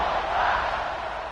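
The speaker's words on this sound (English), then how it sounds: "this crowd is buzzing after that last score" A stadium crowd buzzes after a football score, a broad, sustained roar of many voices at steady moderate level with no single voice standing out.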